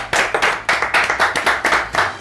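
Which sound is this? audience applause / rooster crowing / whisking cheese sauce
audience applause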